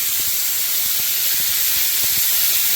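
Meat goes into a smoking hot pan for bibimbap and sizzles with a loud, steady, close hiss that holds for the whole stretch, with faint clatters underneath and no talking.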